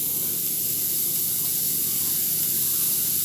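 Onions sizzle in hot oil with a loud, steady hiss throughout, close up and without pauses.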